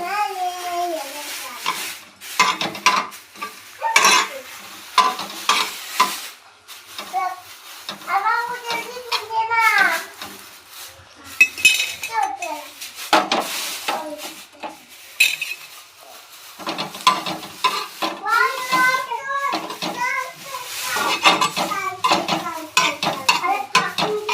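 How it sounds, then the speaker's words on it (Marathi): A spoon scrapes and clinks against a pan while ingredients are dry-roasted and stirred, sharp metallic strokes coming in irregular bursts; someone talks now and then between the stirring. "असं भाजून घ्यायचं आंबळ थोडंसं."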